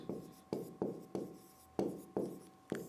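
Chalk or marker strokes on a board while writing Hindi grammar notes: about eight distinct taps and scrapes in an irregular rhythm, close and fairly quiet, with no talking over them.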